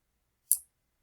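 A single crisp computer mouse click, close and brief, in otherwise near silence.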